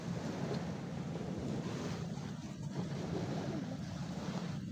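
Sea waves wash onto a beach in a steady, continuous roar. Wind buffets the microphone at the same time, and no voices can be heard.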